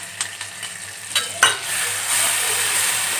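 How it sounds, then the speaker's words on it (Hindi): Tomato puree sautéing in a pan for chana masala, with a few spoon scrapes and clinks over a bright sizzle that grows steadier and louder near the end, close up with no talking. "अब इसको अच्छे से भुनेंगे।"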